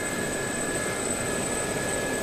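An SA342 Gazelle helicopter in the DCS World flight simulator gives a steady, even turbine whine with a constant high drone over a low rumble, held at moderate level with no talking.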